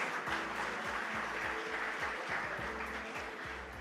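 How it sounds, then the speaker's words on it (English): Sustained applause from an audience at a school reading-launch event fills the whole stretch, a dense steady wash of clapping with no voices over it. "Can we have a round of applause to all"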